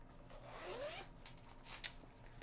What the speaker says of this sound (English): So project bag, sweet little charmed zipper pull.